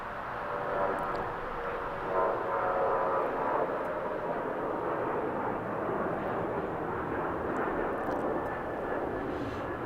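A jet airliner rumbles at Los Angeles airport, taxiing or on the runway, as a steady broad engine roar that holds level across the whole stretch without fading away.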